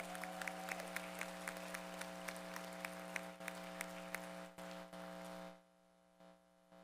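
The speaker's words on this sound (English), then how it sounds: "Give them a big round of applause together" Sparse, scattered applause at a school board of education reorganization meeting, with individual claps standing out over a steady low room hum before the clapping thins and stops near the end.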